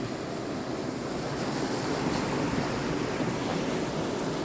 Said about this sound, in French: là, ça coule. Il relâche l'eau.